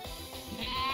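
A sheep Pokemon's cry from the video game Pokemon Damask, a single short synthesized bleat that rises and swells toward the end.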